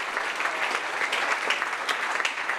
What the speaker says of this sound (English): Round of applause for Asher, ladies and gentlemen.